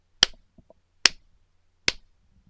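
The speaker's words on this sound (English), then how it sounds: "they will clap 3 times very loudly so that the claps will appear on the timeline" Three loud, sharp hand claps spaced roughly evenly apart, each a crisp isolated crack with a short decay and near silence between them, made as a sync cue for a Camtasia recording.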